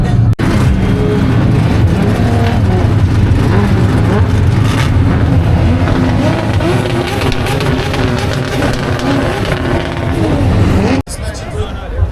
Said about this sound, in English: it's cool to see these cars roll through on the street